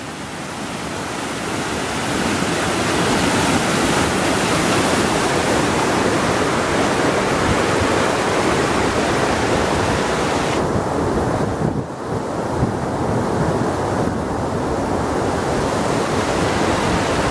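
Rushing brook water at Tunnel Brook bridge, storm-damaged, roars as a loud, steady broadband rush throughout, with a brief dip near the middle.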